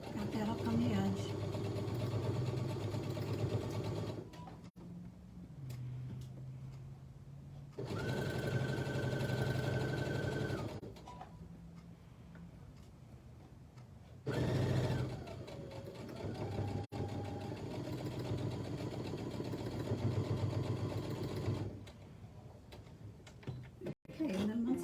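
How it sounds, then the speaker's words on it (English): Sewing machine stitching close to the edge of mesh fabric for a beach bag, running in several steady bursts with short pauses between, fairly near and continuous. "sewing close to the edge of the fabric"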